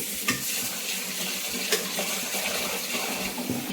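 Soaked rice is being washed in water for anarsa; there is a continuous watery swishing and splashing with a few sharper clinks of the grains and vessel, at a moderate level with no talking.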